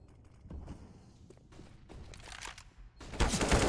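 AK rifle spraying in the video game Counter-Strike, bursts of shots separated by gaps, with a loud dense burst at the end, mixed with scattered game thuds and footsteps.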